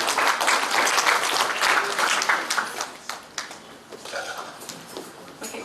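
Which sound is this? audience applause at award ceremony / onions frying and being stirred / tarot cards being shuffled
audience applause at award ceremony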